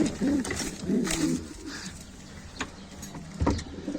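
Pigeons coo in a coop in low, rolling, repeated bursts close by, with faint knocks and rustles around them.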